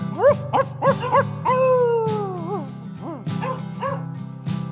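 Barking in a rhythmic, sing-song pattern rides over a steady musical backing, with a run of quick, close woofs, one longer drawn-out howl, then more short barks, loud and near.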